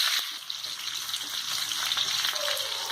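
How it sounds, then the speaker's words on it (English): Curry leaves, chopped green chili, ginger and garlic fry in hot edible oil, giving a steady, close, hissing sizzle that runs without a break for the whole clip, with no voices. "add curry leaves as well as chopped green chili, followed by ginger and garlic"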